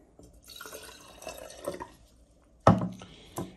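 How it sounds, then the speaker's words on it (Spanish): Water poured into a container during a love ritual with bay leaf, soft trickling and splashing followed by a sharp, louder splash and a final drip, close and without talk. "echamos agua."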